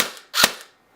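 A single sharp shot from a G&G MK12 airsoft rifle on semi-automatic, a loud crisp crack that decays quickly into quiet.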